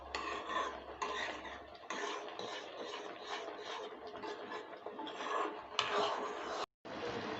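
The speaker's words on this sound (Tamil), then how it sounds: "இந்த மாதிரி நல்லா கிண்டி விட்டே இருங்க" Flattened rice and carrot porridge is stirred in a pan, giving rhythmic soft scraping and rubbing strokes, fairly quiet, with a brief gap near the end.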